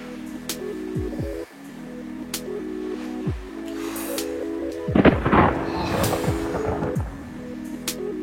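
Thunder rumbles and cracks loudly over a steady hum, with a burst of heavier crashing midway, like a stormy night with rain.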